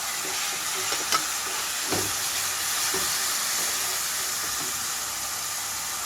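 Tomato paste sizzles loudly in a pan of frying onions, a dense continuous hiss with a few soft stirring knocks and no speech.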